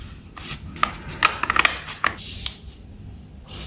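Paper is folded and pressed along its creases while a paper airplane is made, heard as close, crisp crackles and a quick cluster of sharp taps and rubs, with no talking.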